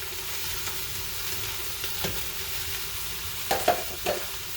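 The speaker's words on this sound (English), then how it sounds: "Put my lovely big diced up onion into here." Diced onion frying in a pot for forest stew gives a soft, steady sizzle with a low hum beneath, and a few light stirring knocks come near the end.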